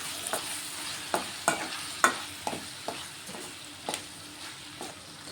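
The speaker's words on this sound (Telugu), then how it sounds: "కట్ చేసి పెట్టుకున్న టమాటాలు కూడా వేసుకుంటున్నాను ఇవన్నీ కూడా కలిపేసుకుందాం" Chopped tomatoes get stirred into an ivy gourd curry in a pan, soft sizzling beneath a series of spaced spoon scrapes and taps against the pan, fairly quiet and close.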